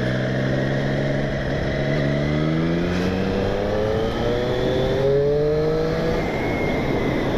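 A 2020 Triumph Street Triple S 660 motorcycle rides by, its engine note steady, then rising through the gears in smooth climbing sweeps, loud and close with continuous wind and road noise.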